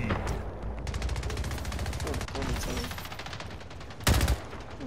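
Rapid SMG fire in Splitgate, fast rattling bursts running almost continuously near the player, with a louder heavy blast near the end over the busy match sound.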